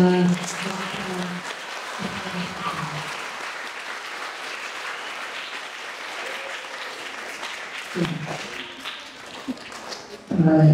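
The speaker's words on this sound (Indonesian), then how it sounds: "Berikan aplaus dulu kepada" Audience applause for a presenter at the MATSAMA school orientation, a sustained clapping wash over several seconds with a voice speaking over it at the start and the end.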